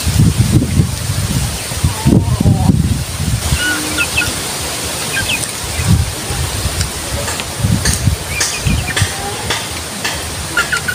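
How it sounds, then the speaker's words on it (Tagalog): Strong wind blows outdoors during open-air cooking with no rain, a steady broadband hiss broken by deep, gusty rumbles that swell and fade irregularly, with faint high chirps scattered on top. "Malakas yung hangin, pero wala namang ulan."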